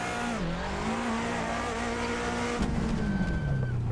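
A Toyota Sera GT driven in the racing game Assetto Corsa on the Tokyo Shuto Expressway, its engine droning loudly and steadily with shifting pitch, tire squeal, and a sudden rougher burst near the end.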